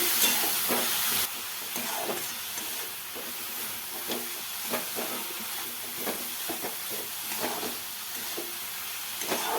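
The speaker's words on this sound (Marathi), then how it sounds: "चांगलं परतून घेते मी" Spicy dried fish (sukat) chutney sautéed in a pan in a village-style home kitchen, heard as a steady hiss with repeated soft scraping stirs throughout. The sound is fairly faint and there is no speech.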